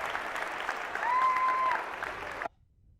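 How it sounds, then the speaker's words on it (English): An audience applauds a guest with a dense wash of clapping at moderate level, lasting about two and a half seconds before cutting off abruptly into near silence. "Let's give her a real round of applause."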